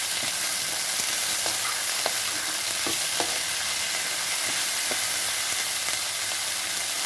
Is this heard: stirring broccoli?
yes